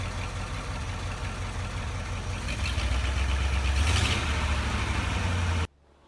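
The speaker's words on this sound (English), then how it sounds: "The 1950 Ford Flathead V8, 8BA, is an iconic post-war engine known for its simplicity, durability, and unmistakable sound." 1950 Ford Flathead V8 8BA engine running steadily with a deep low rumble, rising briefly in revs midway before settling, then cutting off abruptly near the end.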